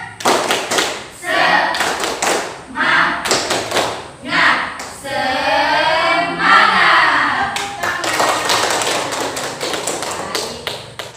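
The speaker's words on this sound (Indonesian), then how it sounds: "Tepuk semangat." Students in a geography class on fauna types perform a rhythmic spirit clap chant, crisp patterned claps and taps interleaved with loud group chanting, close and lively throughout.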